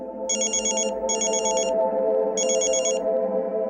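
A telephone rings in three electronic bursts, the first two close together and the third after a pause, over a steady low background hum.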